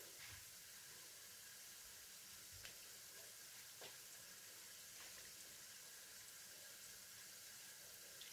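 Kalajamun dough balls frying in hot oil, a steady, quiet sizzle and hiss with a few soft bubbling pops, heard alone throughout.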